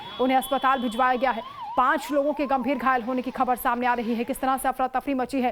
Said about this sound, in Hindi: हर तरफ सायरन की आवाज़ आप सुन सकते हैं।